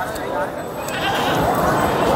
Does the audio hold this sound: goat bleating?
yes